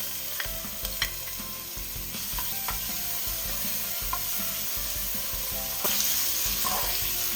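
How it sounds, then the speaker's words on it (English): Ginger and garlic sizzle in vegetable oil in a pot, a steady loud crackle with scattered pops and a few scraping stirs, running without a break and with no voices. "In a pot, I'm going to be adding some vegetable oil. So that I'll add some ginger and garlic."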